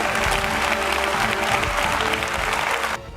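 An audience applauds at an Apple event announcing a new iPad, dense steady clapping from a large crowd that cuts off abruptly near the end.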